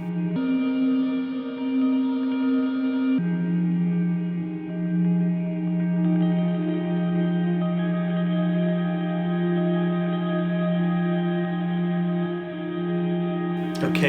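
Sustained pitched drone loops drenched in reverb, layered harmonic tones holding steady with a pitch shift a few seconds in, loud and continuous with no voices.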